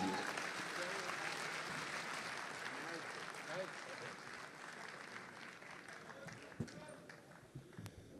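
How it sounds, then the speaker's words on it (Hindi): Applause from the audience at a Republic Day kavi sammelan and mushaira in Dubai rings out dense and steady, then thins gradually, with a few voices and scattered claps surfacing near the end. "तालियों की गूंज के साथ आवाज दीजिए।"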